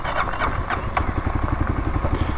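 A Kawasaki KLX351 dirt bike engine chugs loudly and close in a fast, uneven pulsing rhythm as the clutch is pulled in too late, with a brief clattering surge partway through.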